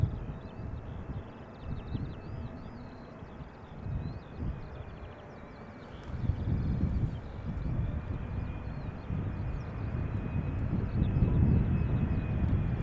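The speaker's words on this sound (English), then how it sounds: "the ITA arriving from Rome is now passing us by, going to the center runway" An ITA airliner arriving from Rome taxis past toward the center runway at Schiphol Airport, its engines a steady whine and rumble that swells slightly louder as it goes by, with wind buffeting the microphone.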